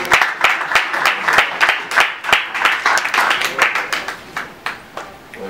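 Scattered audience clapping at a press conference for a dancer named Capsule, with uneven, fairly close handclaps in loose rhythmic bursts that rise and fall across several seconds.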